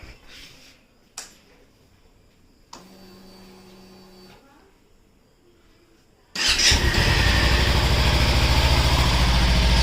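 A Kawasaki Ninja 300 motorcycle has a few clicks and a quiet electrical whine from the starter, then the engine fires and holds a loud, steady, close idle.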